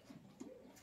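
A domestic pigeon coos softly nearby, a few low burbling notes in quick succession with no talk.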